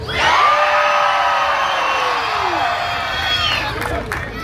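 A fair audience at the OC Fair in Costa Mesa, Orange County, yells, whoops and cheers in one loud, sustained roar of many voices that fades slightly near the end.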